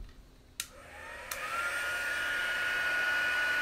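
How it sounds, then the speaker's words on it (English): Heat gun melting embossing powder on a stamped papercraft piece, two sharp clicks as it switches on, then a steady loud blowing roar building and holding to the end. "here's the heat gun if you haven't seen embossing before"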